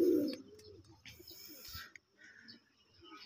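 A pigeon coos loudly and close at the start, with a lakha low-flyer kept among a flock of fancy flying pigeons, followed by faint rustling and soft bird sounds.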